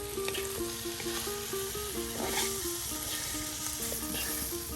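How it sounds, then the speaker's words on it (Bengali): Chopped bottle gourd frying in oil in a village kitchen, a steady close sizzle throughout with light stirring scrapes and a faint tonal hum in the background, no voices. "বারবার তেল দিয়ে এই লাউ কুচিগুলো একদম সুন্দর করে ভালো করে এটি ভেজে নিচ্ছে"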